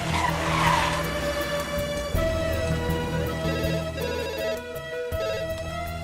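A car in a Hindi dubbed action drama film skids with screeching tires, a sustained squeal layered over a tonal musical background, with a sharp jolt partway through.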